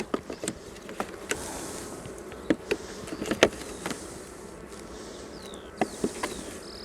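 Honey bees buzz around an open hive as the comb is worked, a soft steady hum with sharp close ticks and bumps from handling the frames, no voices.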